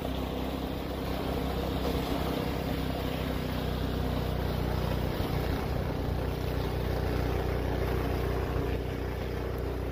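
A snowblower engine runs at full throttle as a steady, loud mechanical drone. It continues without a break and is mixed with wind-like rushing noise.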